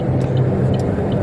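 Road noise fills the cabin of a moving car, a steady low rumble with a few faint clicks and rattles, no talking.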